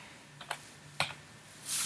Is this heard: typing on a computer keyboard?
yes